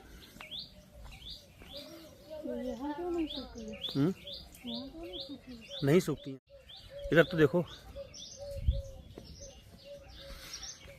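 Small birds chirp in quick repeated bursts nearby, with a soft cooing underneath, while someone speaks intermittently over them.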